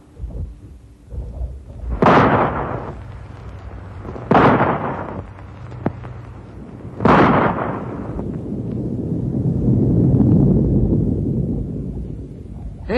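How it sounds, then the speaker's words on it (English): Rifle shots fired to set off an avalanche in a radio drama ring out as three heavy, booming reports a couple of seconds apart, followed by a long, low rolling rumble. "Rifle shot?"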